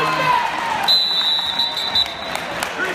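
End-of-period buzzer at a high school wrestling match, a steady electronic tone lasting about a second over a noisy gym crowd and commentary.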